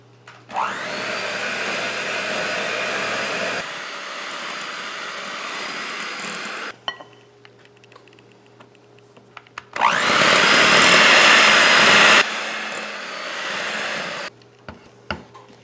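An electric hand mixer works butter cookie dough as flour goes in a cup at a time, a loud steady whir running in two long bursts with a quieter pause between, no talking.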